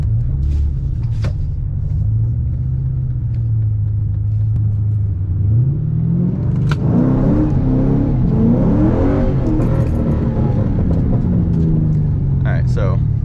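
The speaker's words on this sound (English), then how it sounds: "Let's practice the launch first." Ford Mustang engine idling with a steady low drone, then revving and climbing in pitch during a practice launch, loud and close throughout, with people talking over it.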